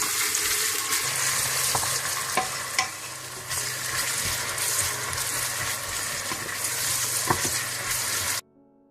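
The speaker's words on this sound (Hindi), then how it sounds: "प्याजों को आप ब्राउन कर लें हल्के से।" Sliced onions frying in desi ghee in a pan, a steady close sizzle with occasional stirring scrapes and pops, running continuously before cutting off abruptly near the end.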